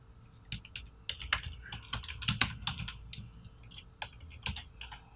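Fingers type on a computer keyboard in quick irregular bursts of crisp clicking keys, close and clear, with brief pauses between runs.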